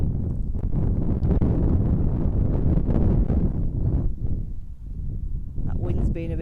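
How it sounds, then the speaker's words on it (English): Steady wind buffets the microphone beside a fishing lake, a loud, low rumbling roar that runs through the whole stretch and eases briefly near the end, with a voice heard at times. "That wind's been a bit naughty,"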